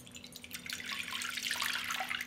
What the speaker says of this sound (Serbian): Sipat ću u činiju 200 ml mlake vode.